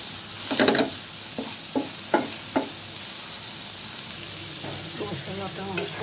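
Spice paste with turmeric and chili powder being sautéed in a pan, a soft constant sizzle broken by several sharp scraping stirs of a spoon, close and clear with no voices.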